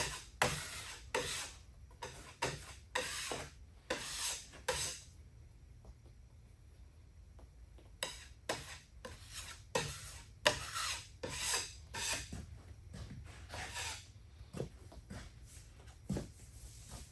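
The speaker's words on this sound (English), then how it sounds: "And I hit the sander one more time." Power sander working over a filled wood surface, coming in repeated rasping bursts of rubbing and grinding with short pauses between them, close and fairly loud with no talking.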